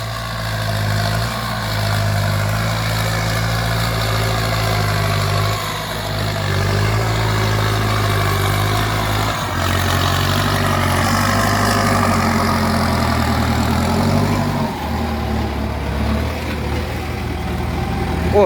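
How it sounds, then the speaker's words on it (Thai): A tractor engine runs steadily at idle outdoors, a low, continuous rumble with a slight dip and rise partway through and no voices over it. "มาพอดีเลย รถไถ"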